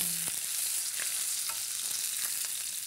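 Wagyu sirloin steak searing in a hot oiled pan, a steady bright sizzle with fat spitting, plus a few soft clicks and taps from handling it, no voices.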